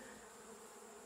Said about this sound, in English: there's a lot of blooming bees in the room.